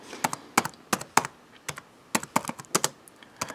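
Typing on a computer keyboard, close and clear, with irregular bursts of crisp key clicks separated by short pauses and no talking.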